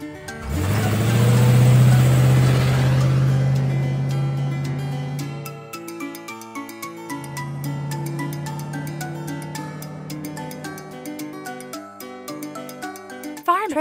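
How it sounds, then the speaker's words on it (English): A classic car's engine revs up loud and near with a rising drone, then settles into a steadier hum beneath upbeat background music. "Classic car."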